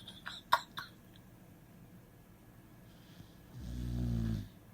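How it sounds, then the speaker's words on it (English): A dog snoring while awake with her eyes open gives one loud, low, rough snore near the end, preceded by faint snorts and sniffs in a quiet room. "How are you snoring with your eyes open?"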